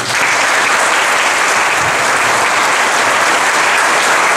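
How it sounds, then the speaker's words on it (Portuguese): Sustained, dense applause from a room of attendees at a court installation ceremony for a new civil court division, steady and loud throughout with no break. "queiram receber agora, de mim e dos presentes, os merecidos aplausos que encerram esse singelo discurso"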